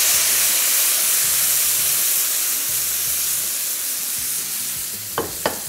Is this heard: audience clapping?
no